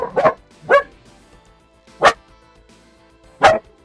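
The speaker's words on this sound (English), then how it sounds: "dogs are kicking off" Dogs barking, four loud close barks in an uneven rhythm, with short quiet gaps between them and nothing else alongside.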